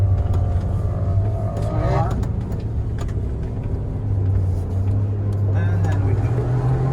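A Ford Bronco Raptor with a 2.7 twin-turbo V6 rumbles off-road at a low, steady drone that swells slightly as it pulls, heard from inside the cabin while people talk over it.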